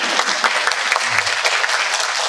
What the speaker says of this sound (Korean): 박수 칠까요?